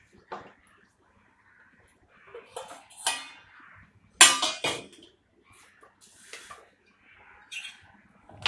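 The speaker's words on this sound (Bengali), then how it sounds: "এই ব্লেডটা লাগাতে হবে। এই ব্লেডটাকে আমরা লাগিয়ে নেব।" Fitting a whipping blade onto a mixer-grinder jar while preparing bel (wood apple) sherbet produces scattered close-up clicks, knocks and clattering of plastic and metal parts, separated by short pauses.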